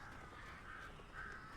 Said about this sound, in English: This is an impressive assembly of birds.